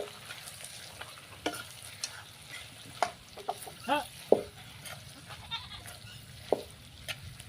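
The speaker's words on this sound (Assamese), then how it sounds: "মাংস এতিয়া সেয়া কেৰাহীত দিছে।" Local chicken meat frying in a kadai and being stirred, a faint steady sizzle broken by scattered scraping clinks, with occasional background voices.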